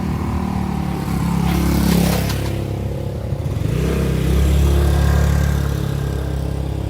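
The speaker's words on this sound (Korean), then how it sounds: "차들은 별로 없고 오토바이만 몇 대가 왔다 갔다 합니다" Motorcycle engines drone and swell as they pass along a street in Ao Nang, Krabi, a steady low rumble rising and fading with traffic noise.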